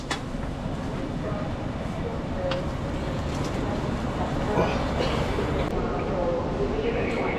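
Train pulling into Glasgow Central Station: a low, continuous rumble of wheels and carriages with faint clicks, under a voice announcement, all at moderate level throughout.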